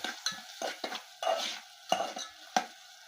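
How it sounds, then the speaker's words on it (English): A spoon stirs fish in a metal cooking pot, giving repeated scraping clinks and knocks against the pot's sides in an uneven rhythm, close and clear with no talking. "After adding, I stir it well"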